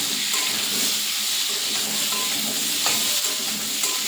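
Potatoes for badami aloo dum fry in a pan with oil, giving a continuous close sizzle and hiss while being stirred, with occasional small pops.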